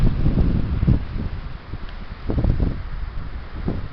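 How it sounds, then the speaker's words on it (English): Wind blows steadily among pine trees on a blustery day, a rough continuous rush with gusts swelling and easing, close and fairly loud, buffeting the microphone. "What an atmospheric day. Wind. Yes, it's just like being by the coast."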